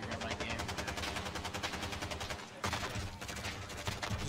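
Rapid automatic AK rifle fire in Call of Duty Warzone, dense continuous bursts with a brief pause before resuming, loud and steady at a LAN gaming event.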